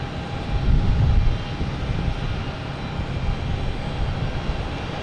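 Airbus A220 arriving at Boston Logan Airport from Buffalo, a steady distant engine rumble with a slight swell early on, heard alone.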